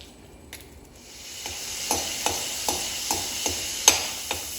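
Mustard seeds frying in a little oil in a pan, a soft sizzling bed with a series of sharp popping crackles at roughly regular intervals, close and clear, no talking.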